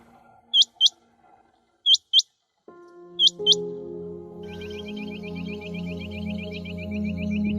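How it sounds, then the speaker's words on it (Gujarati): Grassland birds call in a forest: three pairs of sharp, high chirps at even intervals, then a faster run of repeated trills over a low rumbling background. "ઘાસિયા મેદાનના પક્ષીઓની હાજરીથી જંગલ જીવંત બને છે."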